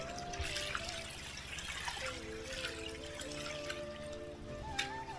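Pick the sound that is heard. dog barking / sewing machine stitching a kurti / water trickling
water trickling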